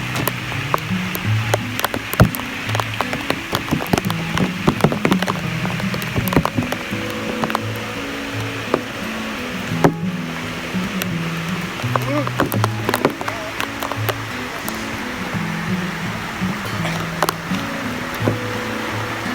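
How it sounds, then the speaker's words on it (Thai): Heavy rain pours steadily over a campsite near a waterfall, a dense patter on surfaces throughout, with other sounds and voices mixed in. "ฝนตกหนักถึงปุ๊บฝนตกเลย"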